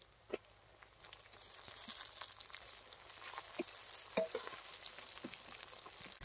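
Chopped green chillies and tomatoes fry in a pan as part of a chicken liver and stomach curry, a faint steady sizzle broken by occasional clicks and stirring knocks.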